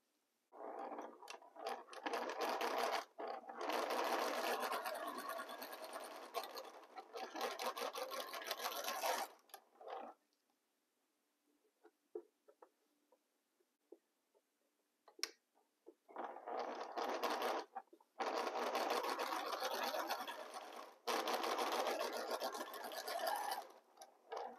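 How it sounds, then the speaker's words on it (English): Sewing machine stitching two fabric pieces together, running in several long bursts of steady rapid whirring, each lasting a few seconds, separated by short pauses with faint handling clicks. "Now it's time to sew these two pieces."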